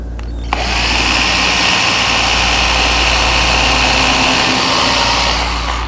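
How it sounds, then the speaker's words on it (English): Close, continuous whine of an electric drill boring a small pilot hole into oak for a nail on a hanging cupboard project, starting with a click and holding a steady pitch for about five seconds. "just a little pre-drill here"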